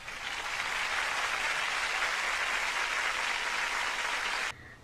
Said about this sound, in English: And then the audience claps at what Tia says.